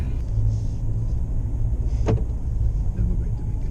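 A 2020 Ford Ranger Raptor pickup on a test drive, with a steady low engine and road rumble heard from inside the cabin at constant volume and one brief faint click partway through.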